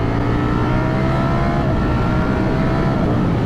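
Ducati Streetfighter V4S motorcycle pulling hard in fourth gear, a loud steady engine drone with wind noise as it accelerates, no speech over it.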